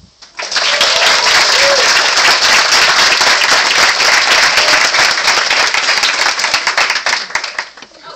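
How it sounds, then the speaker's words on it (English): An audience at a university gender studies lecture bursts into loud, dense applause that holds steady for about seven seconds and then tapers off. "2 faculty members I think really need applause"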